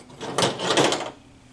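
A zip tie ratchets tight around a pair of red wires on a Spirit Halloween Proton Pack prop, making a close, quick run of dry plastic clicks that lasts under a second.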